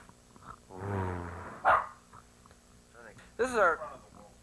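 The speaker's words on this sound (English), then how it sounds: "Is a Wookiee usually a good dog?" A pet dog gives a couple of sharp, loud barks about two seconds apart, with a low growling rumble before them and quieter sounds between.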